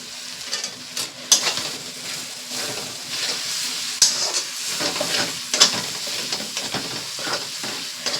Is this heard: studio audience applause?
no